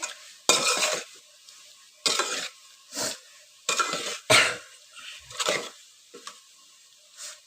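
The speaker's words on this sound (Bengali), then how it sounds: "এই পর্যায়ে টমেটোটা দিয়ে দিচ্ছি আর বেলেবুটা দিয়ে দিচ্ছি আমি এগুলোকে কষিয়ে নিচ্ছি" Tomatoes and lemon being sautéed for a fish curry with cauliflower, with a spatula scraping and clattering against the pan in repeated irregular strokes over a faint sizzle.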